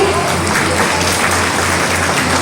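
An audience at a Mother's Day gathering claps steadily and densely, a close, loud, continuous applause with no gaps.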